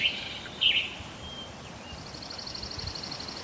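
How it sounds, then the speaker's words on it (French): Faint, distant birdsong in an outdoor setting: a few thin chirps early, then a rapid high trill, over a steady soft hiss of background noise. "Le chant des oiseaux résonne, mêlé au doux clapotis d'une cascade voisine."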